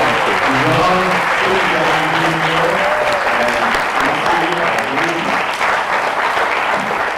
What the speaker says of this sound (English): A round of applause for Muscato